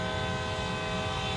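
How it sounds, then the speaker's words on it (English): Locomotive horn sounding in Train Sim World 2 on the Cane Creek line, a steady sustained multi-tone blast held throughout with the rumble of the running train beneath. "Right, let's give it a honk."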